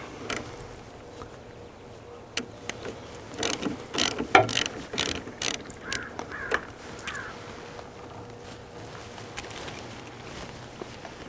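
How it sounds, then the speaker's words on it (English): A ratchet wrench loosens the negative battery terminal on a car during a Pulsar LT install, giving bursts of rapid clicking pawl strokes close up, with clanks of metal and no talking. "The first thing you're going to need to do is to disconnect the negative battery terminal. So we'll go ahead and pull this off."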